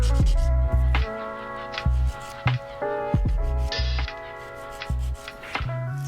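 An electric nail drill runs at 25,000 rpm, buffing gel colour off fingernails. A high whine carries intermittent gritty grinding bursts as the bit touches the nail, close and fairly loud with no talk.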